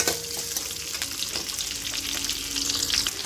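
Onions sautéing in a pan for a sweet pumpkin dish, a steady close sizzle with light stirring clinks and scrapes, no voices.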